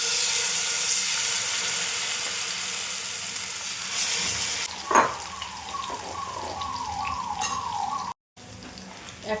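Pieces of fish tikka are laid into hot oil in a pan, giving a steady sizzle with sharp pops, clinks and brief watery bursts partway through. There is no talk, and the sound drops out briefly near the end.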